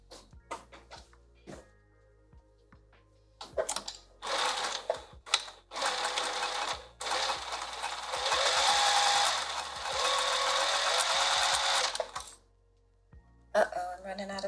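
A sewing machine stitches a lined dress bodice in several runs, a close, rapid mechanical whir with brief stops, surrounded by clicks and handling noises.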